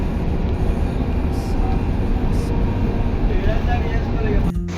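Dubai Metro train running, with a steady, loud rumble of wheels and cabin noise close by that continues through the whole stretch.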